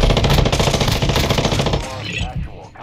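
Rapid automatic gunfire in Warzone 2.0 DMZ bursts loud and close in a dense rattling stream, then drops back to quieter scattered shots and game noise.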